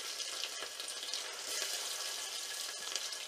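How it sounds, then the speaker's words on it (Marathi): Garlic dropped into hot oil in a pan for a Maharashtrian tempering, giving a steady, close, dense sizzle and crackle that holds evenly throughout with no voices over it. "आता या तेलामध्ये आपण लसूण टाकून घेऊयात"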